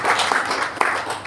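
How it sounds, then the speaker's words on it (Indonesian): A church congregation claps together at a Sunday worship service, a dense, steady wash of applause lasting about a second with a slight swell near the end. "kita tepuk tangan untuk Tuhan"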